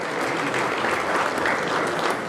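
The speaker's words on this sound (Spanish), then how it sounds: "Invitamos con este fuerte voto de aplausos" Loud, continuous applause from a crowd at a school recognition ceremony for outstanding high school graduates, dense clapping for a couple of seconds without pauses.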